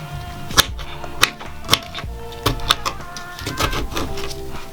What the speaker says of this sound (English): So first I'm going to cut the peaches.